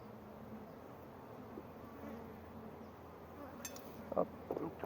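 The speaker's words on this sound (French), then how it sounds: "c'est vraiment plaisant d'avoir des abeilles aussi douces" Honey bees from a gentle colony make a low, steady hum at an open beehive during an inspection, with a few sharper buzzes of bees flying close near the end.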